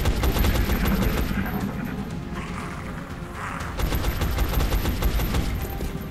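Pistol fire from the turn-based strategy game XCOM: Enemy Unknown rings out as a rapid, loud volley of sharp cracks, briefly easing off midway before a second burst of shots.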